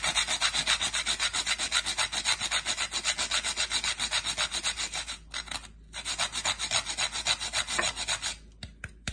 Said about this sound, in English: I'm gonna grate some more nutmeg on this.